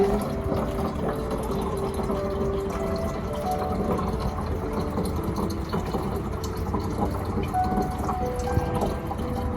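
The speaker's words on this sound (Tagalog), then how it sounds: "May lalabas ng tubig." Steady rush of water running and pouring, with a continuous low mechanical hum underneath, like a pump working nearby. No voices.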